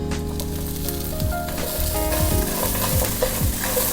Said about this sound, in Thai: คั่วคั่วเขานิดหน่อยค่ะ